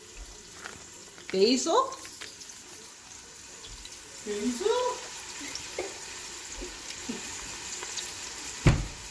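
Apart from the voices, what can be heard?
onions frying in a pot for sauce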